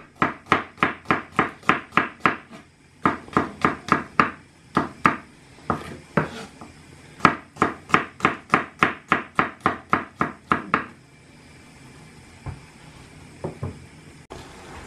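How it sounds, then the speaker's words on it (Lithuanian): Garlic chopped with a knife on a board, heard as fast, evenly spaced crisp knocks in several runs with brief pauses, then a few scattered taps near the end. "Dabar susismulkinam česnaką."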